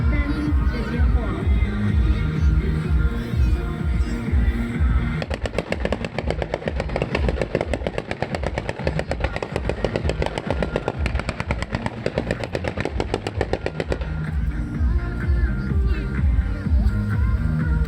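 A 3D fireworks show at the Nantou lantern festival: a long, dense burst of rapid crackling explosions rises over the crowd, then eases off, while a person talks throughout.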